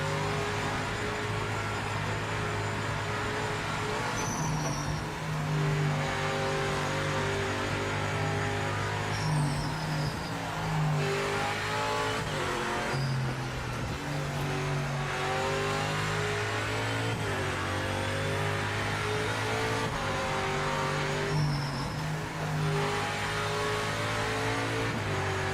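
Race car engine in Project Motor Racing, revving hard through the gears with sharp downshift blips and high sustained whine, loud and close-up throughout with no talk.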